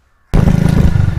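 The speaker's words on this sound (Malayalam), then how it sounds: "ഇപ്പോൾ നിങ്ങൾ കേൾക്കുന്ന സൗണ്ട് എന്ന് പറഞ്ഞാൽ നമ്മൾ വണ്ടിയിൽ പോകുന്ന ഒരു ഇതാണ്." Loud wind buffeting and engine rumble erupt abruptly after a short silence on the mic of a Mi Bass Beast earphone worn while riding a vehicle, forming a dense, fluttering roar.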